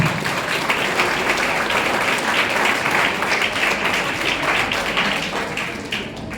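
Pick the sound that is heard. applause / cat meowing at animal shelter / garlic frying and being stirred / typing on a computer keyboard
applause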